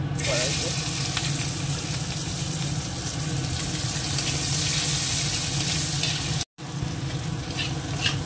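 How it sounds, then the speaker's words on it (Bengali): Onions frying in a pan, a continuous loud sizzle with light stirring that briefly cuts out near the end before resuming. "তো পেঁয়াজটা একটু আগে ভেজে নেব।"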